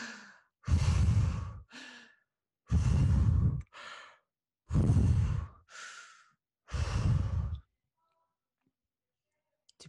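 Four slow cycles of deep breathing during guided meditation: a long loud exhale followed by a shorter, softer inhale each time, close to the mic, then silence at the end.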